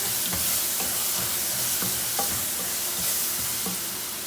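Vermicelli toasted in oil with tomato paste frying in a pan, a steady close sizzle with scattered crackles and soft stirring scrapes, no voices.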